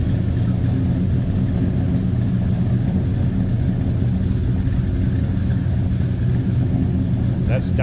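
A 1970 Chevrolet Chevelle Malibu convertible engine runs steadily through Hedman headers, heard from behind the car as a loud, continuous low exhaust rumble that fills the whole stretch without a break.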